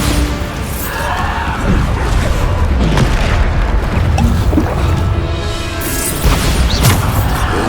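Explosions from the Bombarda spell in the video game Hogwarts Legacy, heavy booming crashes over continuous loud combat noise with rumbling, smashing impacts across the whole stretch.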